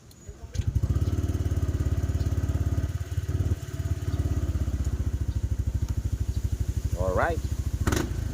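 Yamaha NMAX V2 scooter with stator socket work, its engine idling close by with a steady throbbing drone and a brief rise in revs near the end, with a short spoken word at the start.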